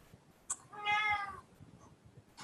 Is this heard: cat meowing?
yes